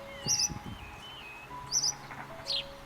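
A blackbird visiting a garden pond for a drink gives a few short, thin chirps and calls at moderate distance, spaced apart against quiet outdoor background.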